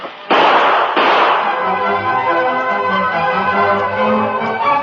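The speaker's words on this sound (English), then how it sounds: "the sound of gunfire was heard outside" Two sharp, loud gunshots ring out in quick succession outside, in an old radio drama, followed by a reverberating, bell-like ringing tail.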